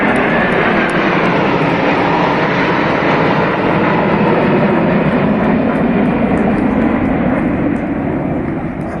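Indian Air Force C-17s, MiG-29s and Sukhoi jets flying in formation, a loud, steady jet roar that sustains without a break, then eases slightly toward the end.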